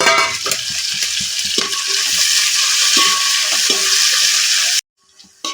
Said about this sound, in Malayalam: പിന്നെ വെച്ചിരിക്കുന്ന സവാളയും പച്ചമുളകും വെളുത്തുള്ളിയും ഇഞ്ചിയും എല്ലാം കൂടെ നമുക്ക് ഇതിനകത്തേക്കിട്ട് നല്ലതുപോലെ വഴറ്റിയെടുക്കാം